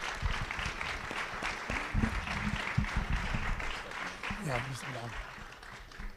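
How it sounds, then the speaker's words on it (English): An audience gives a sustained round of applause for the coaches at a university athletics NIL town hall, a steady wash of clapping with voices speaking over it. "Can we get a round of applause for all our wonderful coaches?"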